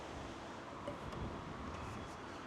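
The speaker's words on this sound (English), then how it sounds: "it's windy out here" Steady, broadband wind noise buffets the microphone outdoors throughout, with no voices, a constant low rushing roar.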